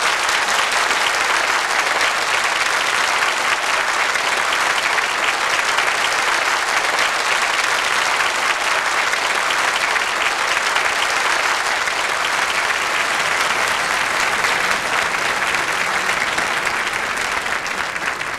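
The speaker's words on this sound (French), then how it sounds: "vous demande d'applaudir" Sustained applause from the audience at the Lido cabaret in Paris greeting Jean-Claude Brialy, a dense, steady wash of clapping that holds evenly for the whole stretch without letting up.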